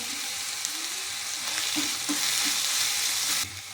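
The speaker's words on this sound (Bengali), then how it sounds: "আদা রসুন বাটাটা দিয়ে একটু ভালো করে ভেজে নেব।" Onion fries with ginger-garlic paste and chopped green chilli, a constant close hiss punctuated by a few light scrapes and taps of a stirring spoon, the sizzle briefly swelling near the end.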